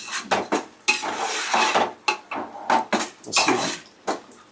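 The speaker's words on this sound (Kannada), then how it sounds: "ಎಣ್ಣೆನಲ್ಲಿ ಚೆನ್ನಾಗಿ ಫ್ರೈ ಆದರೆ ಚೆನ್ನಾಗಿರುತ್ತೆ." A ground paste of tomato, green chili, coriander and mint is stirred and fried in oil in a pan for soya biryani, with repeated loud scraping and clanking of a spoon against metal over a soft sizzle.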